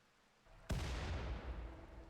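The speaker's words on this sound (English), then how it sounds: "Let the shelling begin." Artillery shell fire in RimWorld during a siege: a quiet lead-in, then one sharp, loud blast that rolls into a long rumbling tail.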